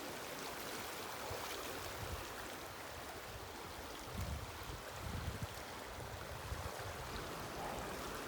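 The Rocky River flowing about ten meters from a backcountry hiking trail, a steady broad rushing wash with low rumbling swells, moderately distant and continuous, with no voices.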